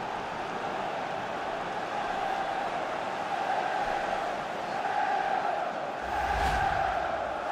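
Stadium crowd in a PS5 football match between Manchester United and Liverpool roars steadily after an equalising goal, a broad sustained wash of cheering that swells near the end.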